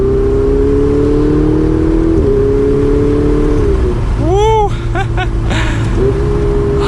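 A Ferrari 488 Spider engine pulls hard under acceleration, its steady rising drone broken by quick paddle upshifts, then a sharp rev blip and rapid crackles, loud and close from inside the car.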